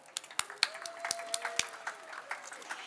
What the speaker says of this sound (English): So please give yourselves a round of applause for everything that you do.